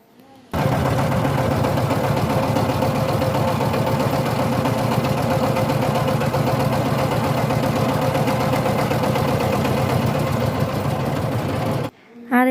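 A boat engine drones steadily and loudly on a river crossing at Sada Pathor in Sylhet, starting abruptly and running unbroken for about eleven seconds before cutting off.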